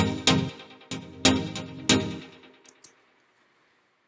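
Garage-style chord pluck lead synth made in Massive, played soloed: short, bright plucked chords in a syncopated pattern of about five hits, each decaying quickly, trailing off into faint echoes and near silence.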